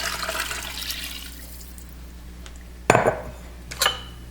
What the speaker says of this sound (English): now I'm going to add my 4 cups of water